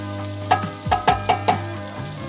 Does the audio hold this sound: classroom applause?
no